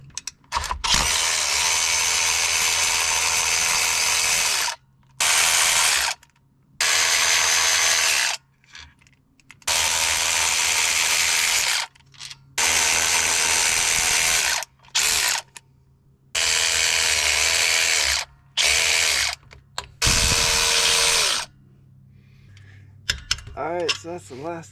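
A power drill backs screws out of the clutch cover on a RZR 200, a series of about ten loud whirring bursts of a second or two each, separated by short pauses.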